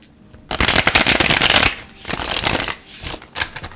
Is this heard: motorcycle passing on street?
no